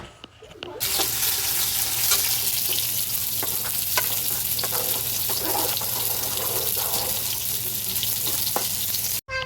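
Pointed gourd fries in a pan with a loud, continuous close sizzle, broken by occasional scraping clicks of stirring, lasting several seconds before cutting off abruptly.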